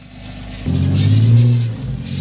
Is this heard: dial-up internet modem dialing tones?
no